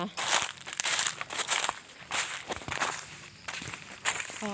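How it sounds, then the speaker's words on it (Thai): Footsteps crunch and crinkle along a dry forest path during a mushroom-hunting walk in hot weather, a steady pace of close, soft steps, while someone speaks over them. "ขอเดินกลับบ้านดีกว่านะ"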